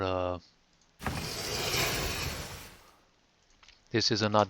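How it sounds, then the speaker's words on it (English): A whooshing, rumbling slide lasts about two seconds between brief bits of talk, sounding like a sliding door moving along its track. "in here we have the sliding door sound"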